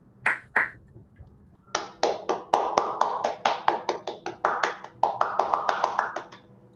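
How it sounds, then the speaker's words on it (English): Sparse hand claps from a few people joining remotely during an online federal employee awards ceremony, a sharp, close, somewhat uneven series of claps that starts after a brief pause and keeps going for several seconds. "if you would all join me in a 5 to 7 seconds virtual applause."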